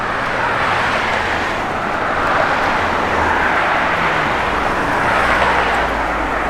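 A 1957 Chevrolet 210 driving, with a steady broadband roar of engine and road noise and swelling passes of wind, continuous and fairly loud with no voices.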